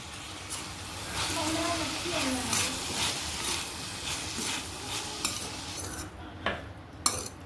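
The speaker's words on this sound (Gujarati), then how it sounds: "અને હવે મકાઈ પણ નાખી દીધી છે અને હવે એને મિક્સ કરી દઈશું" Spoon stirring corn chevda in a hot pan, repeated scraping strokes over a light sizzle, close and fairly loud, with a few sharper clinks toward the end.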